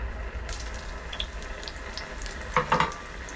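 Onions frying in a seasoned pot after beef has been browned, a steady close sizzle with a few clinks and stirring scrapes and no talking.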